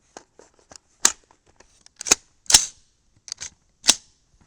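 Suppressed shots from a 300 Blackout rifle with a 10.3-inch Hanson barrel firing 110 grain VMAX loads: five sharp, clipped cracks at irregular intervals, with faint clicks and handling noise between them.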